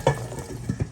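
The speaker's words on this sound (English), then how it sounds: "that butter's popping" Corn kernels sizzle and crackle in hot butter, with a few brief pops and stirring scrapes close by over a steady frying hiss.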